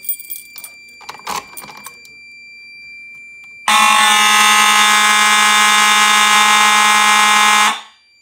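A fire alarm system sounds after a manual pull station is pulled during a test, blaring a loud, steady electronic horn tone for several seconds before cutting off, preceded by brief key rattling and clicks.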